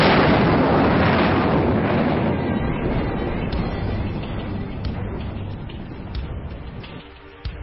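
A long-range ballistic missile launch roars loud and continuous, a dense broadband rumble that slowly fades as the rocket climbs away.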